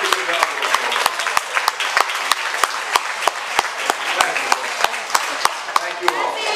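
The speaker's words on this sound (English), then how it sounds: "would you give all the babies and all the parents who stand with all of you a really good round of applause" A crowd applauds at a county fair baby event, with dense, steady clapping and sharp individual claps standing out in a regular rhythm, close and loud throughout.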